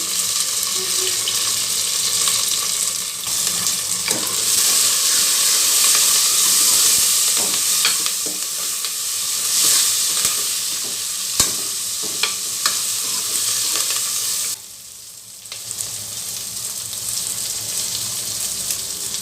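Spices sizzle steadily in hot oil in a pan as green chili, fenugreek, cumin and dried red chili are fried for tomato dal, with occasional stirring scrapes and a brief dip in the hiss near the end.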